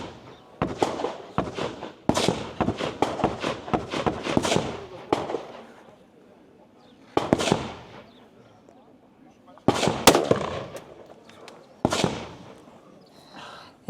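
Biathlon rifle shots during a firing sequence at an outdoor regional race in Poland ring out as sharp, loud cracks in quick bursts separated by short pauses, with faint background talk.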